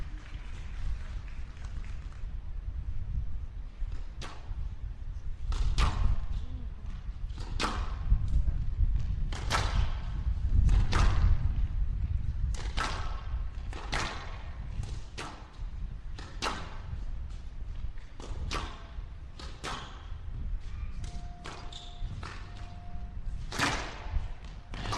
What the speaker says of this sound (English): The drop shot again.